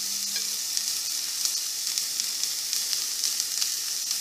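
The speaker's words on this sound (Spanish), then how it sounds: "que se acitrone un poco con el ajo y la cebolla" Garlic, onion and pepper strips sizzle steadily in olive oil in a pan, a bright continuous frying hiss with faint stirring scrapes and no talking.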